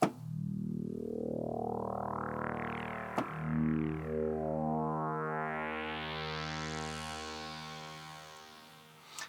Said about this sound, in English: So then I took the Roland Jupiter-6 and made a more resonant sound.